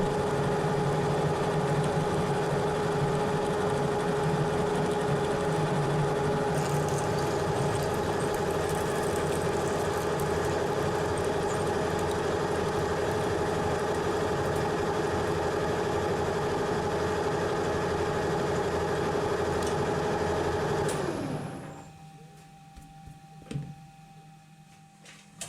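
Metal lathe drills a hole with a 17 mm drill during machining of a two-part combination gear, a loud, steady whirring drone with a constant pitch that winds down and stops near the end.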